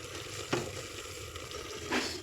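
Onion, ginger, garlic, coriander and coconut roasting in a hot pan for mutton curry, a soft continuous sizzle with two brief scraping stirs, quiet and close, no voices.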